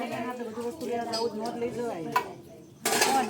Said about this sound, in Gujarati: અહીંયા વાસણ ધોવે છે